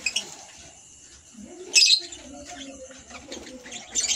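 Birds chirp and coo in short bursts, a few sharp calls standing out against quiet background noise.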